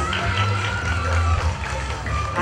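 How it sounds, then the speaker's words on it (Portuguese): Studio audience at a Brazilian game show anniversary broadcast clapping for a girl, a loose crowd applause with scattered claps and murmuring voices, moderately loud and fairly even. "Aplauso pra gatinha!"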